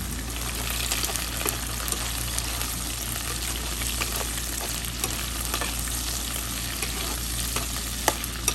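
Peeled shrimp hit a hot pan and are stir-fried for pancit canton in a home kitchen, giving a loud, continuous sizzle with occasional scraping stirs and no talking.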